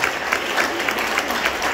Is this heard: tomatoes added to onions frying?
no